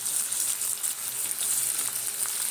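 Star fruit pickle fries with spices in a pan for a sweet, sour and spicy achar, giving a steady, close, bright sizzle and hiss with faint stirring and no talk.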